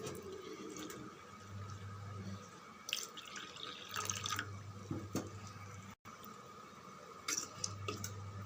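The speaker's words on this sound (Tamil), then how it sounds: "2 டம்ளர் தண்ணி விட்டு இந்த மாவை கலந்து விட்டுடலாம்." Water is poured into flour in a kitchen and stirred, giving faint splashing, trickling and soft dripping sounds in a few short bursts, quiet and close, with no talk heard.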